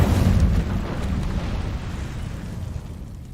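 A fire spell called Incendio cast in a video game: a deep, rumbling whoosh of flame that bursts loudly at first, then settles into a sustained low roar for a few seconds.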